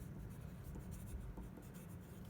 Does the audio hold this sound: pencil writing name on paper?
yes